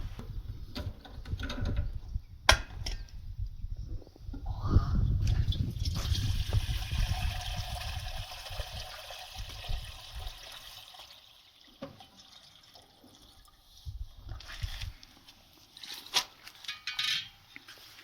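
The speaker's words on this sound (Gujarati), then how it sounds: "અત્યારે આપણે એક ટોપડીની અંદર ગરમ પાણી જે સોલારનું છે તે લઈ લેવામાં આવ્યું છે." Hot water from a solar water heater running into a pot, a moderate splashing pour with gurgling that fades and returns in bursts, with a few clanks and no talk.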